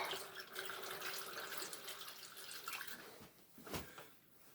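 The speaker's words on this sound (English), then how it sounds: "That way when I pour in the water, it will mix it up." Water is poured into an AeroGarden indoor hydroponic planter, a soft continuous trickle and splash that fades after a few seconds, followed by a couple of faint drips and bumps.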